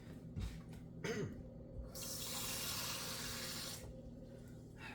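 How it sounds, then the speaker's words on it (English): Water for cooking beans and rice runs steadily from a tap into a pot for a couple of seconds, a soft hissing rush with a few clunks before it, fairly quiet and without talk. "there's already a line where you can pour the water in"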